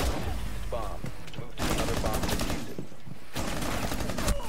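Rapid automatic gunfire in Rainbow Six: Siege rattles in dense bursts, loud and close, with a pause between volleys while players shout over the shooting.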